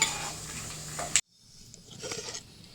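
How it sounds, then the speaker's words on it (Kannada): Peanuts frying in oil in a home kitchen: a bright sizzle for about a second, then a sudden cut to quieter sizzling and a few soft stirring scrapes. "ಮೊದಲಿದು ಶೇಂಗಾ ಫ್ರೈ ಆಗಲಿ. ಎಣ್ಣೆ ಒಳಗೆ"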